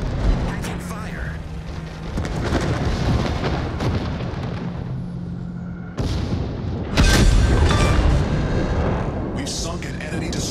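Naval guns from a World of Warships battle involving the carrier Graf Zeppelin boom in heavy, rumbling salvos, with a louder close blast near the end and game voice announcements over the din.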